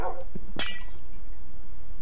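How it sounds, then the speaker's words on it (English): Glassy Xycraft crystals in Minecraft break with a bright clinking shatter, one sharp burst near the middle after a few lighter ticks, then quiet. "Stacked crystals will shatter in pairs."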